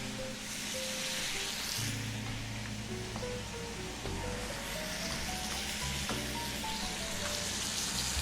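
Pot roast meat sears loudly in a hot pan, a steady dense sizzle running the whole time beneath tonal background music, with no voices.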